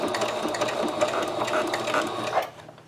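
A sewing machine stitches forward and backward on fabric for a wheelchair or walker pouch, a close, rapid mechanical whirring that carries on steadily and then stops near the end.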